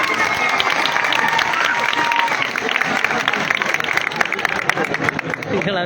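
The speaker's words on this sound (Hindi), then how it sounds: "जोरदार ताली बजाओ।" A crowd at a political election rally claps loudly and continuously, a thick crackle of many hands with some cheering mixed in, steady and close throughout.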